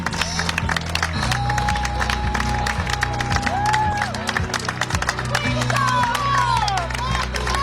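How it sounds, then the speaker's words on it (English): A crowd claps and cheers for the Cal State Fullerton Titans lacrosse team at the SLC Division II championship, the applause mixed with a tonal whistle and distant voices over a low rumble. "Let's give a big round of applause to the Titans."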